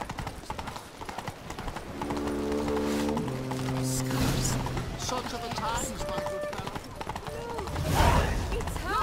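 Horse hooves clip-clop steadily on a road in The Witcher 3: Blood and Wine, a continuous trotting rhythm beneath spoken dialogue and soft game music.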